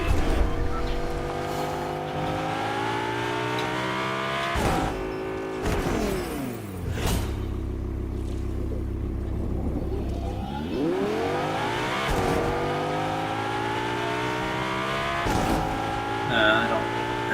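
Car engine from a video game, revving and shifting pitch with rising and falling harmonic sweeps, a deep rumble in the middle, loud and steady throughout, with a voice speaking over it.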